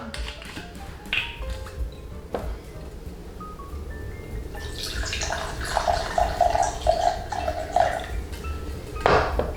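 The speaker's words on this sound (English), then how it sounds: "First, 2 ounces of rum." Rum pours into a glass for a daiquiri as a short, close trickle of liquid, preceded by light clinks of glassware and bar tools in a quiet room.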